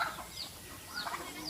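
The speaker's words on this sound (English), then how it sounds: "There go the chickens." Chickens cluck on a farm in the Philippines: a few short, scattered clucks and squawks, moderately distant, with no one talking.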